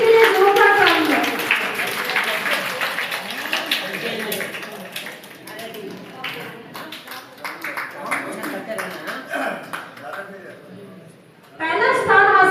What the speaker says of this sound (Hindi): इस बच्ची के लिए जोरदार ताली है